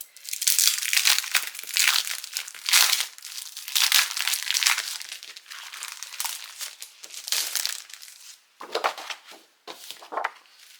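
Sheets of patterned scrapbook background paper for a wedding album are handled and crinkled, with a steady run of loud, close rustling and crumpling and a few brief pauses near the end.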